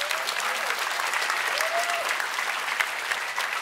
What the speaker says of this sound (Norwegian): Vi gir en stor applaus til staten, representert ved Bjørgulf Vinje Borgenvåg!